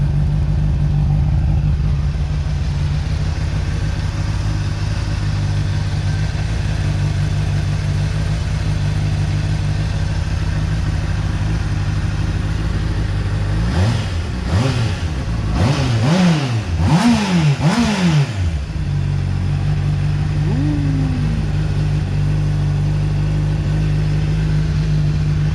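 A motorcycle engine idling steadily in neutral, then blipped through several quick rising and falling revs before settling back to a smooth idle, close to the microphone with no talking.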